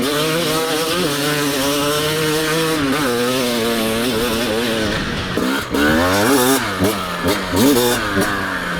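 A 2025 TM 300 two-stroke dirt bike engine revs loud and close, its pitch rising and falling in repeated throttle blips across the whole stretch, with a brief dip before it climbs again.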